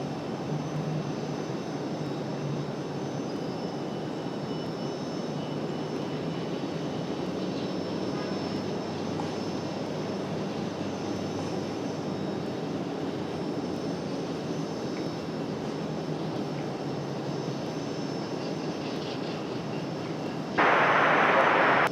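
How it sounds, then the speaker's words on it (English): An American Airlines Boeing 737 jet roars steadily at an airport, a sustained engine rumble holding constant throughout before a brief louder noise at the very end. "American 737. I would assume this one's headed back to DFW."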